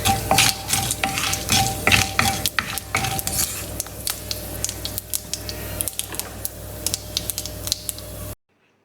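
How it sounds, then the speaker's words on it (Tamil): Fenugreek seeds frying in sesame oil over a low flame, a busy crackling sizzle with frequent popping bursts and spoon scrapes, loud and close, stopping abruptly near the end. "வெந்தயத்தை ஆட் பண்ணிவிட்டு அடுப்பை வந்து சிம்மில் வச்சு லைட்டாக அப்படியே ஃப்ரை பண்ணுங்கள்."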